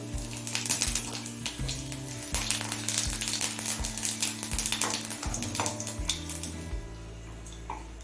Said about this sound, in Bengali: জিরেটা কুড়ি পঁচিশ সেকেন্ড সময় নিয়ে লাল করে ভেজে নিয়েছি